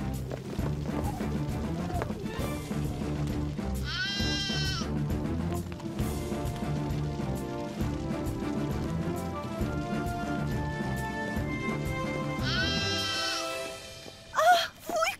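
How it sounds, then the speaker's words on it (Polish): A cartoon lamb bleats in a children's animated firefighter episode, a few quavering cries rising over busy background music and clip-clop effects. "To nie jest dziecko. To wełniaczek, mały baranek."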